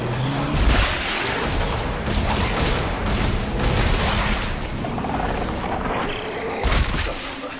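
Weapons fire in the sci-fi horror game Dead Space 3, with loud, repeated bursts and heavy booms crowding together over several seconds, then a sharp blast near the end.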